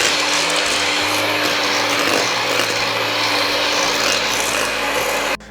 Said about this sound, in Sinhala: ඊට පස්සේ මේක හොඳට කලවම් කරගන්නවා